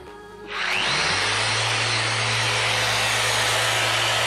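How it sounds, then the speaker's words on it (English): A power sander fitted with 1500 grit abrasive works a piece of wood, spinning up after a brief quiet moment into a loud, steady whirring drone that holds evenly to the end. "1500 grit, sander."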